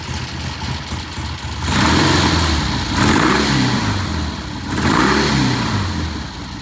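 Triumph motorcycle engine idling after a carburetor adjustment, then revving up in three rising bursts that fall back to idle, close and loud with no talking.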